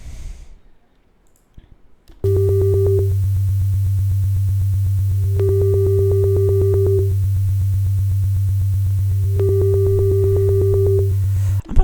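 A loud, sustained Serum software synthesizer tone with a heavy low bass drone and a brighter buzzy layer that swells in and out several times.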